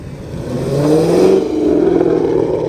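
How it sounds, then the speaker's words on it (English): A V8 engine at an evening car meet rumbles and revs, swelling to a loud peak midway and then holding a steady, throaty drone, close by, with no speech. "I can hear a mighty rumbling V8."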